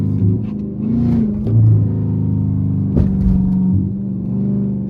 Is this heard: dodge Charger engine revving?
yes